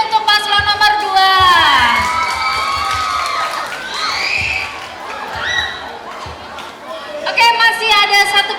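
A school student-council debate crowd cheers and shouts for candidate pair number two, with children's voices and excited chatter forming a loud, sustained wash that dips midway and swells again at the end.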